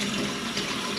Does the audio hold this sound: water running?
yes